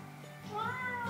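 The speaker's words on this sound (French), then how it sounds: "C'est un chat qui parle." A cat gives a single drawn-out meow that rises and bends in pitch, fairly close but quiet, with no other sound around it.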